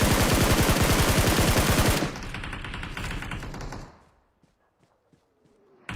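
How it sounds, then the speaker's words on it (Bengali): M4 rifle fire in a video game, a loud sustained automatic burst of rapid shots that tapers into scattered single cracks and quieter impacts before falling almost silent, with no talk over it. "M4 তে ফায়ার দাও"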